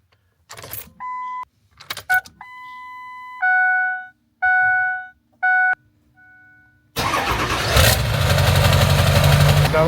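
Electronic chimes and warning tones from a 7.3 Powerstroke diesel truck's dash are followed by the engine cranking and settling into a loud, rumbling idle after a Hydra chip install.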